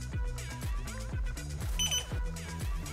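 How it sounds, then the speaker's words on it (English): Rhythmic electronic beeping from a Rhodan FOB unit during its learn procedure, a steady, close, fairly loud series of repeated tones with no talking. "you'll get another double beep"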